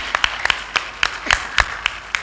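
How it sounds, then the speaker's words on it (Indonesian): Scattered hand claps, a few sharp separate smacks in an uneven rhythm, like a small group starting to applaud. "tapi tepuk tangan dulu"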